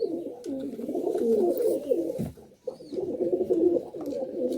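Male Malwai and Madrasi pigeons coo in a breeding loft in Budge Budge, South 24 Parganas, with overlapping throaty coos rolling continuously and close by, briefly dipping before resuming.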